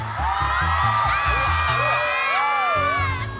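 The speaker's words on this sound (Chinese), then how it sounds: "尖叫声在哪里啊？" A pop concert crowd cheers and screams with shrill whoops, loud and close throughout, over a singing voice and steady live music.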